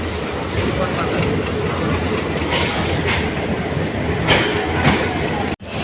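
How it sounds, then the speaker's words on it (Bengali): A mail train rolls into platform five at Dhaka's Kamalapur railway station with a steady, loud rumble and faint clattering throughout, with brief screeches near the end. "কমলাপুর রেল স্টেশনের পাঁচ নাম্বার প্ল্যাটফর্মে প্রবেশ করেছে ঢাকা মিল ট্রেনটি"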